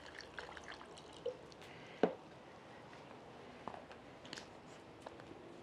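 Water is poured into a pot of nopalitos rancheros with salt and charred tomato salsa, a soft, faint trickle with a few light splashes and clinks in a quiet kitchen.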